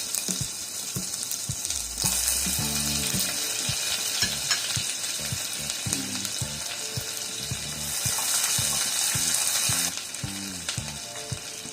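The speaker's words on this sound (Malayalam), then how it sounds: "ഇനി 1 ടീസ്പൂൺ ജിഞ്ചർ ഗാർലിക് പേസ്റ്റും 2 പച്ചമുളക് ചോപ്പ് ചെയ്തും ചേർത്തൊന്ന് വഴറ്റാം." Ginger garlic paste and chopped green chillies sauté with spices in hot oil in a mushroom masala, giving a loud continuous sizzle broken by repeated scraping stirs and clanks of a spoon against the pan, with two louder hissing surges.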